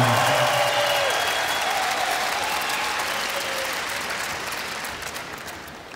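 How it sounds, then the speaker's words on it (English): Broad audience applause in a large arena at the Eurovision Song Contest, starting strong and slowly fading across the stretch, with faint tonal sounds early on. "Feel free to applaud, the sightseeing is over!"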